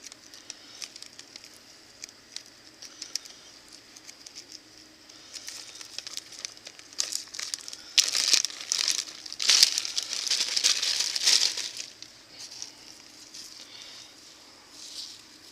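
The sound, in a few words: plastic bag crinkling while salting pork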